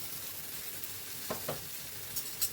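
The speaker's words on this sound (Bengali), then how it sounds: "আবারও ঢাকা দিয়ে এটাকে রোস্ট করে" Eggplant, peas and green chilies roast in a covered pan, giving a faint, steady sizzle with a few soft pops and clicks near the end.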